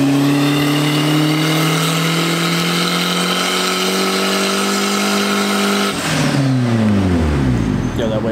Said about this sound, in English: That wastegate opens up hard though.